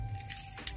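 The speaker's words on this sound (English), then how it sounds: "so I will put my keys in there instead" A bunch of car keys, one of them a VW Polo key, jangles briefly and metallically as it is dropped into a VW armrest compartment. Two close clinking bursts occur within a second.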